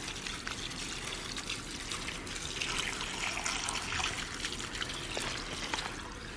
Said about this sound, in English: I'm just going to give it a real quick rinse with the hose.